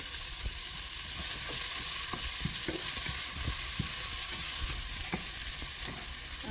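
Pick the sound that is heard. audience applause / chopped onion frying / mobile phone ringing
chopped onion frying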